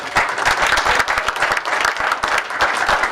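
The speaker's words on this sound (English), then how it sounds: "let's give a round of applause for being here" An audience at a borough council meeting claps together, a dense burst of applause from a modest crowd in a room, loud and steady for a few seconds.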